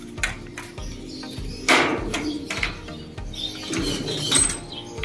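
A racing pigeon coos in low, repeated throaty pulses close by, with a few soft rustles and wing flutters between the calls.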